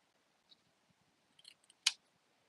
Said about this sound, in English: I think I'm going to trim it right here.